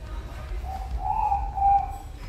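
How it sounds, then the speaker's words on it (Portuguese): A pigeon gives soft, hollow cooing calls over a low background rumble, a few drawn-out notes in a row, in Hagley Park, Christchurch, New Zealand. "Você ouve aí o barulho do pássaro também"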